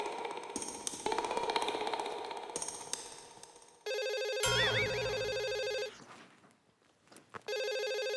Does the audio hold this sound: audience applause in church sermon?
no